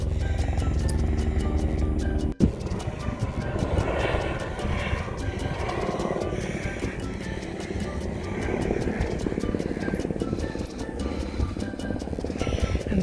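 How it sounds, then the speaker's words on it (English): Border Patrol helicopter rotors thump steadily nearby, a loud continuous chopping drone with a brief sharp knock early on, no voices heard. "those are Border Patrol helicopters that you hear in the background."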